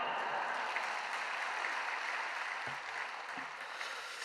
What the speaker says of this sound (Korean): 할렐루야로 하나님께 영광 돌리시고 박수로 맞이하겠습니다